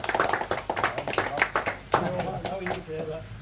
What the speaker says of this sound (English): can we have a round of applause for Ricky, please?